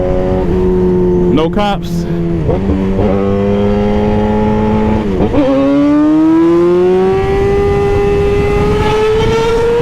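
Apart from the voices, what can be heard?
600cc sportbike motorcycle engine accelerating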